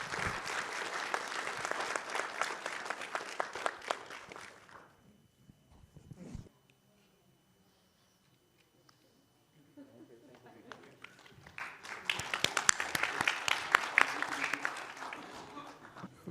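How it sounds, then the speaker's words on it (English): Audience applause for conference panelists at a finance session, a dense burst of clapping that fades into near silence, then a second loud round swells up again and carries to the end. "we have to thank these wonderful panelists, and with a big round of applause"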